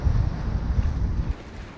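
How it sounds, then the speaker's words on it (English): A sailboat bashing straight into a headwind at sea, with steady low wind buffeting and water rumble that drops slightly near the end; no voices. "We're bashing our way completely straight into the wind"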